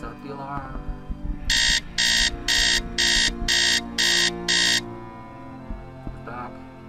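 Video game alarm ringing in seven evenly spaced loud electronic pulses, each a bright buzzing tone, with quieter game sounds before and after.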